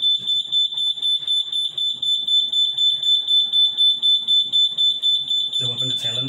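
A Hochiki fire alarm sounder and panel buzzer, set off by a third-floor push button, give a loud steady electronic tone throughout, with a louder burst of activity near the end.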